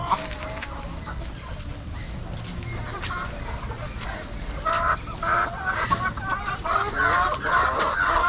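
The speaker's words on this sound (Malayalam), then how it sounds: "ഇതെല്ലാം എനിക്ക് മുട്ടയിടുന്ന പേടകളാണ്" A flock of spotted egg-laying hens clucks steadily and close by, growing busier and louder toward the end, with an occasional rooster crow mixed in.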